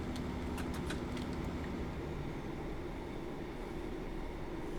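A train in Train Simulator powers along the West Coast Main Line toward Wigan. The engine and wheels make a steady, continuous rumble with a faint tonal hum and some light rattling clicks early on.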